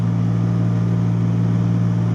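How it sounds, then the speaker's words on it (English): A narrowboat's engine works hard at high revs on the tidal River Thames near the Grand Union Canal turn, a steady, loud low drone with a constant throbbing hum and no voices. "I really had to stick the revs on."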